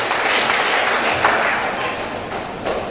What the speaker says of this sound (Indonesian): Tepuk tangan kepada beliau.